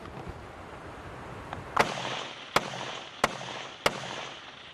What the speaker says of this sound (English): I'm going to put some semi-automatic fire on that threat.